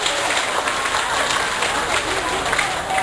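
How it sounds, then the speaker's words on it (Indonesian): A crowd claps at a school anniversary celebration for SMPN 1 Wlingi in Blitar, a continuous, fairly loud wash of many hands with a voice audible beneath the applause. "Tepuk tangan untuk kita semuanya dan kota Belingi."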